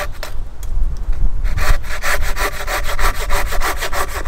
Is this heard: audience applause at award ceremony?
no